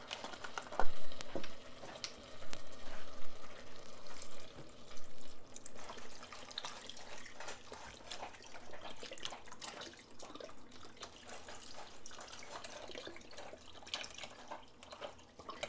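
Vegetable broth pours from a container into a pot, giving a gurgling, splashing stream that starts loud up close and then eases into a softer, steadier trickle.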